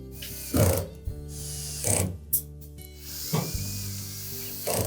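A ratchet tightens bolts on the drum support of a Samsung dryer during repair. It clicks in four short bursts separated by quiet pauses, close up.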